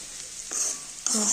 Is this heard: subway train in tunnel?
no